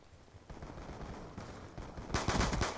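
Rapid automatic gunfire from a weapon in the video game Black Ops 2 rattles in quick bursts, growing louder and denser near the end.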